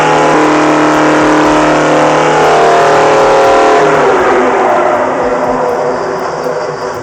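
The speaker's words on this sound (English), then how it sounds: "After 3 decades of stillness, the Detroit Diesel 471 awoke in fury." A Detroit Diesel 471 engine roars at high revs, a loud sustained harsh drone with rising and falling harmonic tones, steady for a few seconds before gradually easing and fading.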